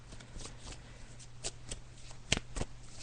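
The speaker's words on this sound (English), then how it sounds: "So I'm just shuffling the cards now, Michael." Tarot cards are shuffled by hand for a psychic reading, giving a steady, close-up riffle of soft papery flicks and slaps in an irregular rhythm over a faint background hum.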